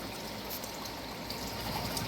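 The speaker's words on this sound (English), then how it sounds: "the dehu water drips in right there" Water from a dehumidifier trickles steadily into a garden bed, a soft, continuous wash of splashing that stays even throughout with no voices.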